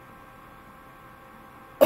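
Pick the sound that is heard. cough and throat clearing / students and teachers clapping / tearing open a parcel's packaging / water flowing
cough and throat clearing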